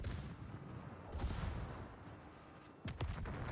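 Rapid secondary battery guns firing on a battleship in World of Warships, a dense continuous barrage of overlapping shots with sharper bursts near the start and end, loud and close with no talking.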